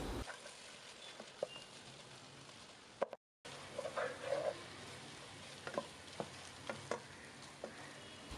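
Thinly sliced ginger sautéed in oil for restaurant-style chicken karahi, a soft continuous sizzle with scattered spatula stirs and light crackles, briefly cutting out before the frying resumes.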